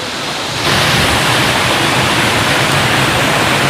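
A strong river current rushes loudly and steadily, a dense broadband roar of fast water that swells in at the start and then holds unbroken and close, with no voices over it.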